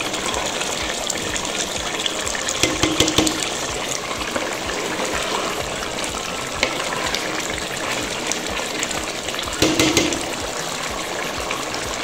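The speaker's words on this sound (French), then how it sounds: "Allez, on va laisser mijoter encore." Comorian stew of beef and pé-tsaï greens in coconut milk simmering in a pot, giving a steady close bubbling, gushing wash of liquid sound throughout with a couple of louder surges.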